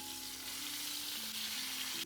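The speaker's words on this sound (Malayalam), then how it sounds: "ഇതുപോലെ തന്നെ ബാക്കിയുള്ള ചെമ്മീനും ഇങ്ങനെ ഡീപ്പ് ഫ്രൈ ചെയ്തെടുക്കാം" Prawns deep frying in a pan of hot oil, batch cooking for a fish and prawn pickle, giving a steady, dense sizzle that holds close and even throughout with no voices.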